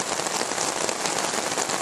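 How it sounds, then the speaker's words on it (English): Heavy rain at a rustic campsite, a dense, loud, continuous hiss of drops pelting surfaces close by, unbroken and with no talking. "Sure is raining hard."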